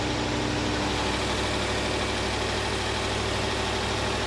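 A Land Rover Series 2A engine idles steadily with its air filter refitted, a continuous low, even rumble with slight vibration, close and alone with no talking.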